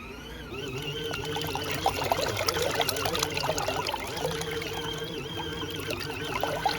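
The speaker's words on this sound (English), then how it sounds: "I think I need to empty the water out, put in fresh water" Water poured out of a small mini washing machine, a continuous splashing and trickling stream with gurgling bubbles, close and moderately loud for several seconds.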